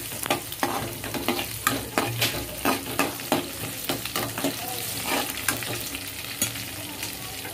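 Chopped onion tipped into hot oil for moong dal sizzles continuously while a spoon stirs it in the pan, producing repeated scraping clicks and clacks in an uneven rhythm, close and fairly loud.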